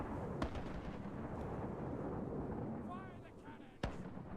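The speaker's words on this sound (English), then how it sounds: "Fire the cannons." Pirate ship cannons fire in a real-time strategy video game, two sharp booming shots separated by several seconds amid a rumbling battle background with some whistling effects.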